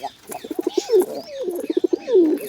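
A pair of pet pigeons coo loudly up close, with rapid pulsed throaty bursts followed by drawn-out gliding coos, repeated twice in a rhythmic courting pattern.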